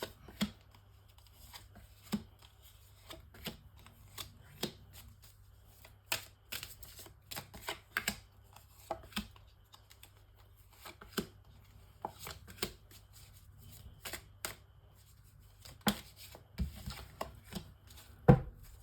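Cards for a nine-card oracle reading are shuffled with soft, irregular riffles and taps, quiet and close, with no one talking.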